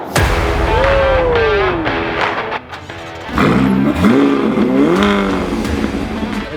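A Ferrari Portofino accelerates hard, its engine note rising in pitch, dropping for a gear change, then climbing again. The engine is close, loud and alone, with no talk over it.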